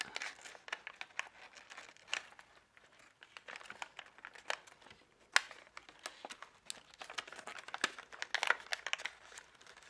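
Paper being folded by hand, a flap tucked into a pocket while making a paper model: faint, close crinkling and soft crisp creases in irregular bursts, no voices.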